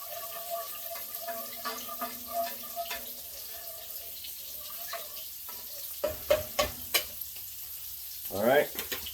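Meat sears in a pan for a pot of chili, with a steady faint sizzle, scattered clinks and stirring scrapes, and a brief rush of water near the end.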